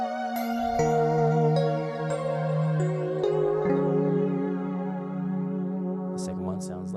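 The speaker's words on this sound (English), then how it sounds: "And there's two glass bell patches." Glass bell patch played on a Bazille synthesizer, bright sustained bell-like tones stepping through a slow melodic line with long ringing overtones, close and alone, with a few soft clicks near the end.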